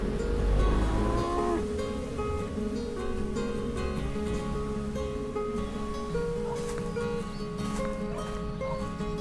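Cattle low and moo repeatedly on a mountaintop farm on Tayak Hill in Nagcarlan, with horses and goats also kept there. Long, drawn-out calls carry over steady outdoor background noise.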